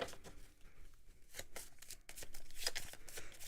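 A deck of cards for the Arkham Horror card game being shuffled up close, a string of soft riffling and flicking bursts at an uneven pace, fairly quiet.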